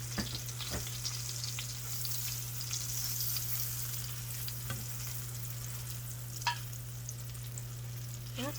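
Cauliflower steaks fry in olive oil with a constant soft sizzle and hiss, broken by a few faint scraping clicks, over a low steady hum.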